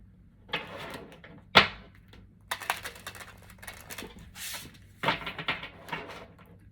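A tarot deck is shuffled up close in a quiet room, with several short, papery riffles and soft taps arriving in separate bursts and no voices.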